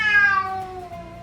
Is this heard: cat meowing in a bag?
yes